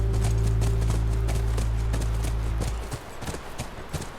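Horse hooves clip-clop in the video game The Last of Us Part 1 near a ranch, a steady run of hoofbeats over a loud low rumble that drops away near the end.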